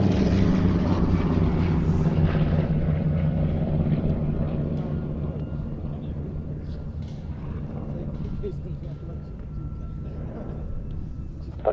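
A de Havilland Vampire FB6 jet at an air show, a steady loud engine roar that slowly fades as the aircraft moves away, with a commentator talking over it.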